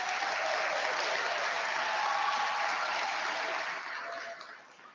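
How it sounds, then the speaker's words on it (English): Sustained crowd applause for award nominees at an athletics awards banquet, a dense steady clapping that fills the room and fades away in the final second. "Let's give one final round of applause to all of our nominees"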